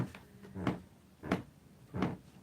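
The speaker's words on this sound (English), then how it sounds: "Can you hear that? Like, there's a lot of creaky floorboards." Old floorboards in a Boston apartment creak underfoot: three separate low groaning creaks, about two-thirds of a second apart, fairly close and alone in a quiet room.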